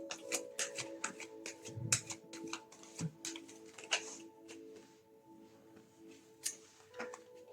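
Oracle cards are shuffled, tapped and laid down on a table in quiet, irregular flicks and soft snaps, a close and faint series of light clicks.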